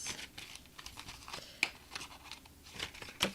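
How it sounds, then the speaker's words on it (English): Scissors snipping into a cardboard Andes Mints candy box, quiet repeated short cuts and crinkling paper rustles at an uneven pace, close and soft. "have to kind of come in with my scissors, do a little cut"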